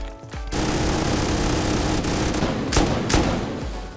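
Explosive ammunition hammers at a ladder in the Rust video game, a dense, loud burst of rapid gunfire that runs almost continuously with a few sharp cracks near the end.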